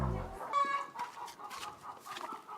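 Chickens in a chicken house give a few soft, quick clucks and short calls, fairly faint and close, with a brief low rumble at the very start and no speech.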